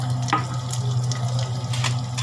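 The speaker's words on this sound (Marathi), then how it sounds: "या जिरा मोहरी टाकतात।" Cumin and mustard seeds fry with crushed garlic in hot oil as a tempering for sweet toor dal. A steady, close sizzle and crackle carries on throughout, with a few brief sharper pops.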